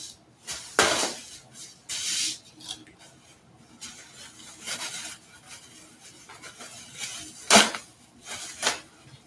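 Spray paint can sprayed over a bubble-wrap-covered workbench: several short, hissing bursts spaced irregularly, with faint rustling and clatter between them.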